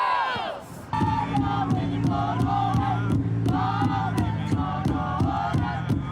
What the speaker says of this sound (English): the crowd called for the government to search the landfill